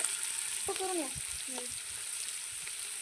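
Sliced onions frying in a pot over a village wood-fired clay stove for chicken biryani, a soft steady sizzle under brief bird-like chirps and faint background voices.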